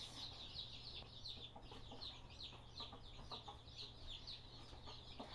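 Newly hatched chicks, one day old, peeping continuously in a quick, high-pitched chorus from close by, with many overlapping calls and no talking.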